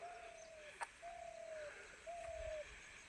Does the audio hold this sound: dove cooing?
yes